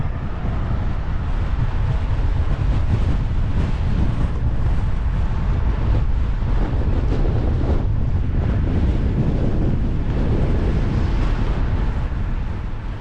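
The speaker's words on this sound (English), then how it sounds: "the wind is quite something up here" Strong wind roars across the microphone on a hilltop road on the Isle of Skye Road above Meltham Nab, a loud, continuous buffeting rush that swells and surges in gusts throughout.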